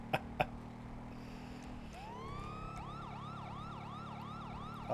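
A police siren starts up and wails in a steady rising and falling cycle over a low engine hum, after two sharp clicks.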